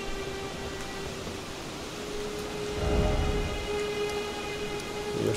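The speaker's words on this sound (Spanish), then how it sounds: "está lloviendo" Steady rain hiss from the video game Elden Ring, with a soft low swell partway through, a continuous ambient wash with no voices.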